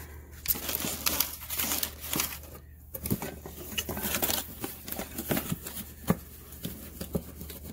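Packaging being pulled from a new carving tool's box and crumpled, with irregular close crinkles and rustling bursts throughout.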